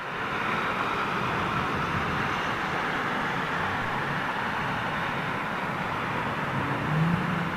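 Air Canada Airbus A330 jet airliner in old livery at an airport, giving a steady broad roar that holds even and constant throughout, with no voices.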